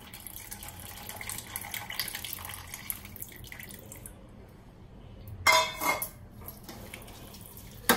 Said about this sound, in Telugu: నిమ్మకాయ నీళ్ళు పోస్తున్నానండి